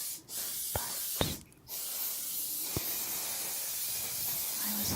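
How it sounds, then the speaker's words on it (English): A can of gloss spray is aimed at an artwork at close range, producing a steady, loud aerosol hiss broken by a couple of short pauses and faint clicks of the nozzle. "typically you would hold the spray can a little further back"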